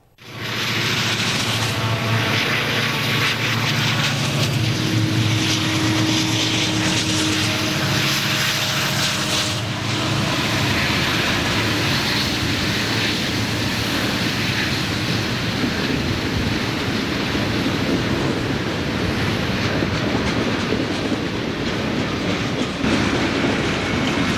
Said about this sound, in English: A westbound train with helper engines ahead exits the tunnel.